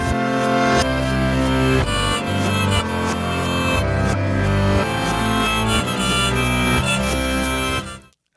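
The harmonica part of a song plays in reverse over piano. The notes swell and cut off abruptly, dense and loud throughout, then stop sharply at the end.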